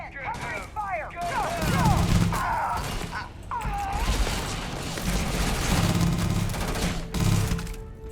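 Combat gunfire in the video game Starfield, bursts of shots and impacts layered with music, effects and game voices, dense and loud through most of the stretch.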